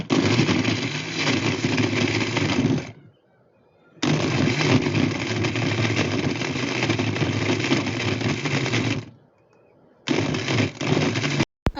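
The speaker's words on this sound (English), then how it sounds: "Then we blend." A blender runs through a mixed fruit smoothie in three loud, sustained bursts, with short silent pauses between them and no talking.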